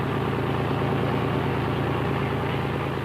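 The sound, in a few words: river express boat engine running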